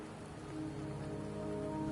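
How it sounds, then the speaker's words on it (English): Steady rain falls in the video game Wuthering Waves, an even wash of droplets that builds slightly louder over two seconds, with no voices. "Don't worry, the rain won't last much longer."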